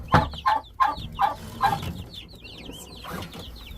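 Chickens and turkeys in a backyard coop give a close run of loud, repeated clucks with short pauses, followed by softer, higher chirps and calls.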